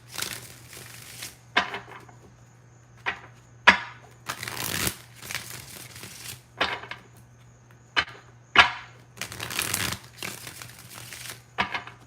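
A deck of cards is shuffled repeatedly, with sharp riffling bursts and soft slides recurring in irregular bursts, close and clear, against a faint steady hum.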